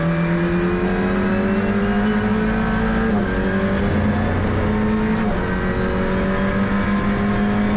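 An Alpine A110 Cup race car on track at Nogaro during a pre-season test, its engine and exhaust droning loud and steady from onboard, pitch rising with gear changes and shifting as it works through corners.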